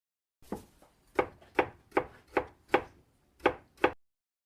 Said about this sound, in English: Carrots, peel and diced.